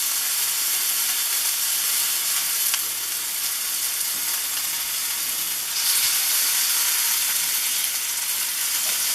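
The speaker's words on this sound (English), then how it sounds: "let it sear on the edges for a while" Tomahawk ribeye steak and onions sizzling in rendered beef fat in a pan, a steady close, loud frying hiss running throughout with slight swells, no talking.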